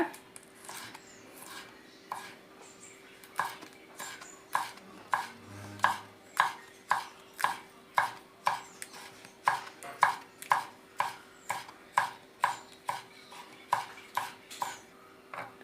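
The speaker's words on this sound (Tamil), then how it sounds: "இப்போ நம்ம வந்து பச்சை மிளகா வெங்காயம்லாம் வெட்டியாச்சு" A knife chops green chillies and onion on a cutting board in steady, evenly spaced strokes, each one a crisp close knock, continuing for several seconds with no talking.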